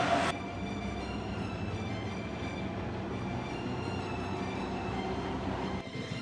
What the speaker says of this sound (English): we are going taking the metro to that place